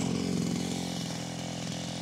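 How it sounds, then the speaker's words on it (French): A floating motor pump's small engine idles steadily at a settled, even pitch, a close continuous buzzing drone with no voices over it. "j'ai rendu le moteur au calme."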